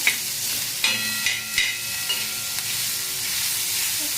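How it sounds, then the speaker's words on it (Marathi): Onions frying in oil in a pan for a village-style soybean chutney, a steady loud sizzle with a few sharp clinks and stirring scrapes near the start, no talking. "कांदा टाकून द्यायचे आपल्याला कांद्याला आपल्याला मस्त असं लाल करून घ्यायचं"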